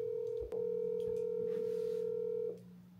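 A telephone plays a steady tone during a call to confirm an appointment, with short breaks near the start and end, quiet and close, and no voices.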